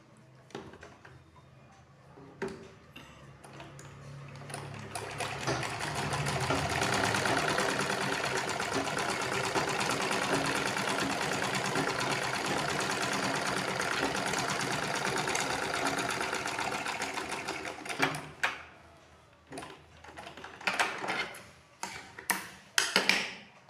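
Sewing machine stitching the lining of a cloth purse, a steady rapid ticking run of about twelve seconds at moderate volume, with short clicks and handling before and after.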